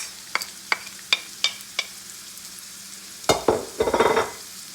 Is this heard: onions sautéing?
yes